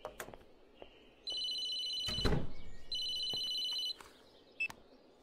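A telephone rings in two clear electronic bursts, each about a second long, with quiet thumps and room noise between and a soft knock near the end.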